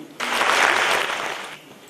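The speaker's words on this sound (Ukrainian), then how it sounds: "Стоячи, лучани аплодували ветеранові одному з трьох, хто брав участь у визволенні нашого краю і залишився живим" Standing ovation from a city celebration crowd for a war veteran, a short burst of dense clapping that swells and fades within about a second and a half.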